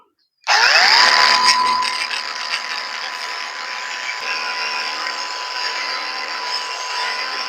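A handheld grinder at its lowest speed setting laps a natural ivory whetstone, starting abruptly with a loud, steady whine and a gritty abrasive hiss that holds evenly for several seconds, with no talk.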